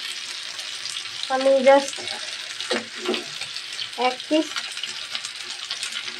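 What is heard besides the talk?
hilsa fish frying in oil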